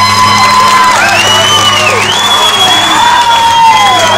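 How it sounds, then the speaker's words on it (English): Concert crowd at a 1996 rock show in Santa Barbara claps, cheers and whoops loudly and continuously, with shouted voices rising over a constant roar. "clap some more, please."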